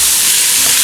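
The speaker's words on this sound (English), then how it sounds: "now we're going to just brown up the onions nice" Onions browning in a pan for venison goulash, a steady bright sizzle and hiss of frying, close and constant with no talk.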